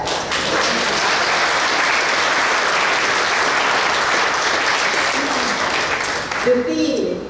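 A book fair audience at a launch and closing ceremony breaks into sustained, dense applause that fills the room steadily for several seconds, with a few louder claps and some crowd murmur near the end.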